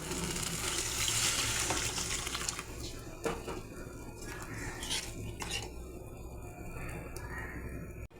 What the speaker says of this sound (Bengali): এবার আমি গরম জল দিয়ে দেবো